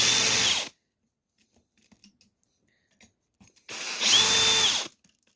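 A power drill backs a bolt out of an RC car differential in two short loud bursts, the second whining as it spins down, with quiet clicks and handling noises between.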